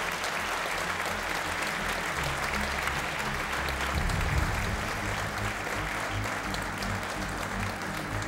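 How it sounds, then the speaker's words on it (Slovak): An audience at the EY Entrepreneur of the Year 2024 awards ceremony applauds a finalist, producing dense, continuous clapping throughout, steady and fairly loud with a low background hum. "môžem vás veľký potlesk pre predposledného finalistu dnešného večera"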